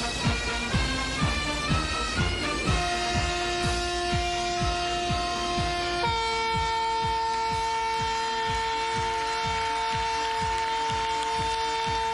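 Naval ships sounding horns in salute during a UAE National Day parade at sea, long sustained overlapping horn blasts changing pitch, steady and loud over a rhythmic pulsing background.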